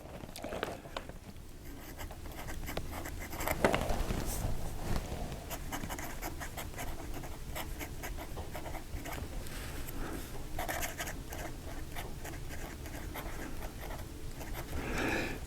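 An Esterbrook fountain pen with a 2550 extra fine bookkeeping nib, filled with Noodler's Bulletproof Black ink, writes steadily across paper in a soft continuous scratch that runs throughout, close and fairly quiet.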